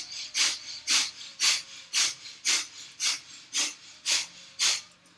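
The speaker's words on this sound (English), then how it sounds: "rapid exhalation, lightning breath of fire" Quick, forceful nasal exhalations of breath-of-fire breathing during a yoga class, ten sharp puffs in an even, steady rhythm, close and clear with no talk.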